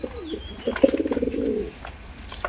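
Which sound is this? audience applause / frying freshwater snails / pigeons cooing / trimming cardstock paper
pigeons cooing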